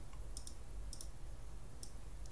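A few light computer mouse clicks in a quiet room over a low background hum, scattered sharp taps while a calculator is opened on screen.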